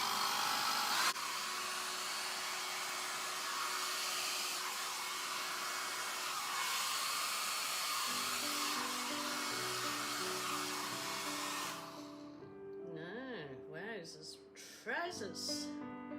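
A hair dryer blows steadily on acrylic pouring paint mixed with pouring medium, a constant close whooshing hum that runs for most of the stretch, then cuts off near the end as a voice speaks over quieter background sound.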